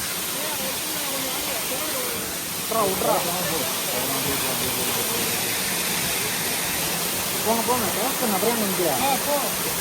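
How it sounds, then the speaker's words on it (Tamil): A waterfall on a coffee estate in Chikmagalur pours as a constant broad rushing hiss, with people talking briefly over it twice. "ஃபால்ஸ், அருமையான ஃபால்ஸ்"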